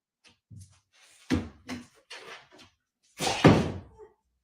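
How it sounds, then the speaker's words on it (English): A house door is shut by a dog in a series of close bumps and knocks, ending in one louder heavy thud. "Go shut the door."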